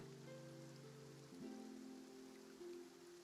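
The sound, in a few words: rain falling in a video game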